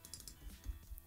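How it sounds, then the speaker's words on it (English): Quick, uneven keystrokes clatter on a computer keyboard while a name is typed into design software, close and fairly quiet, with no talking. "My typing is terrible."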